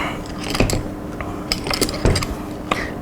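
Bolt of a Remington 700-based USMC M40 sniper rifle in 7.62 NATO with a short-throw action, cycled close by in a few sharp metallic clacks and clicks against a quiet room.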